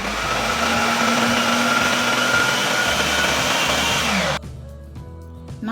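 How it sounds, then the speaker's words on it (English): Kitchen blender roughly chopping bell pepper and scotch bonnet, a loud steady whirring motor running alone for several seconds before cutting off abruptly, leaving faint room sounds. "I'm gonna blend it to rough consistency,"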